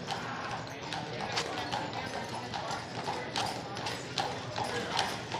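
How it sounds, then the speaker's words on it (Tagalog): Large horses' hooves clip-clop steadily on a street in Mackinac, Michigan, a continuous uneven clatter of many hoofbeats heard nearby with people talking in the background. "Ang lalaki ng kabayo nila dito."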